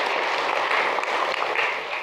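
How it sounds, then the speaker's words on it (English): Steady applause from a crowd at a residents' association annual general meeting, a dense even wash of clapping heard alone for about two seconds. "I would like a round of applause for Don Forbes spending many evenings."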